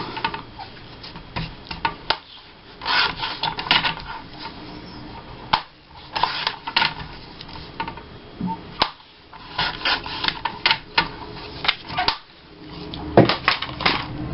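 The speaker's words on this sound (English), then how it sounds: "And I'm going to use the page trimmer on this one." A paper page trimmer slices scrapbook paper in repeated scraping, rubbing strokes with brief pauses between passes, close and moderately loud.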